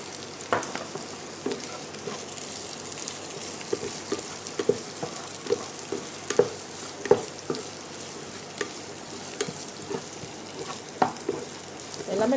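Chopped onion sautés lightly in a pan for a chicken dish, giving a soft, steady sizzle with scattered taps and scrapes from stirring throughout.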